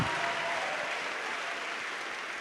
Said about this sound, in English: Can you guys give these guys a very big hand clap?